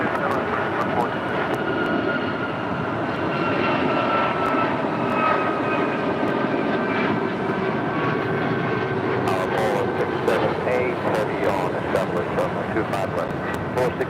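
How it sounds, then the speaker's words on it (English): A United Airlines Boeing 737 MAX 9 takes off at LAX, its jet engines giving a loud, steady broadband roar that holds for the whole stretch, with people talking faintly underneath. "This is United Airlines 279 taking off to Tampa, Florida on a MAX 9"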